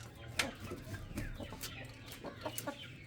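A hen being handled clucks repeatedly in short, uneven bursts over a low background hum, fairly close but quiet, with no talking.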